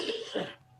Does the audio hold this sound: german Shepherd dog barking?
no